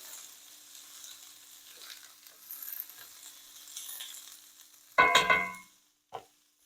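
Cuban-style picadillo stirred in a sizzling pan, a soft frying hiss under light stirring, then a loud clattering scrape of the utensil and a brief knock near the end.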